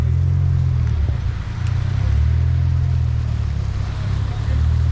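A Mercedes C63 runs at the Valley Run drag racing event, a heavy, steady low engine rumble droning on without a break and dipping slightly midway.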